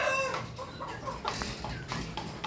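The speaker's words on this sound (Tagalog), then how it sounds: "manok na imported from Peru, bansang Peru." An imported Peruvian fighting rooster at a cockfighting farm, clucking and calling in short bursts at moderate distance, with a steady outdoor background.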